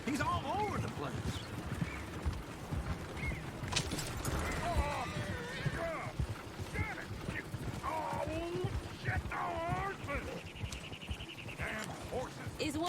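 Horses in Red Dead Redemption 2 clop along with steady hoofbeats while occasional whinnies rise over them, mixed with game voices talking throughout at moderate level.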